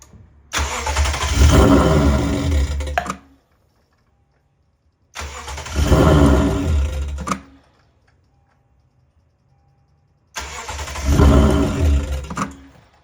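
Warm engine of a Lexus RC F or IS F cranking on the starter during a compression test with the fuel pump fuse pulled, three cranking bursts of about three seconds each with a rhythmic chugging pulse, loud and close, separated by silence.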